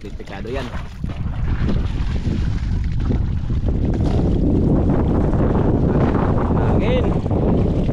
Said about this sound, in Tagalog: malakas na panghangin